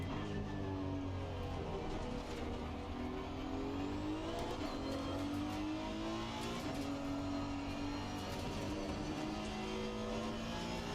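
A mid-engine race car in Assetto Corsa Competizione drones steadily as its engine revs climb and drop through gear changes, loud and continuous with no speech.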